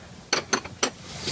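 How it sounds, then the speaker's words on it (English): A ratchet breaking loose brake caliper bolts during a caliper replacement gives three sharp metallic clicks in quick succession, close and clear with no talk. "I'm going to break both of these bolts"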